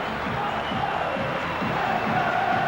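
Stadium crowd at a 1999 St Helens v Hull rugby league match, a steady roar of cheering and chanting filling the whole stretch, dense and continuous with rhythmic swells.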